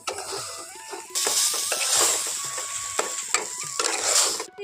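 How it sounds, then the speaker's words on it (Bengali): Banana flower and chana dal stirred in a pan while the remaining water cooks off, a continuous close sizzle with wet scraping stirs and occasional utensil knocks, no talk. "এখানে যে ছলার ডাল আর কলার মোচাটা আছে সে তার মধ্যে যে উপরন্তু জলটা আছে সেটা এখানে খুব ভালো করে শুকিয়ে নেব"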